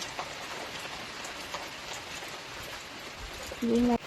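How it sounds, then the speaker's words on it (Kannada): Heavy monsoon rain falls steadily on a hill-country plantation with teak trees and papaya plants, a dense, even patter throughout, with a bird cooing briefly near the end. "ಮಳೆ ಬೇರೆ ಜೋರಾಯ್ತು"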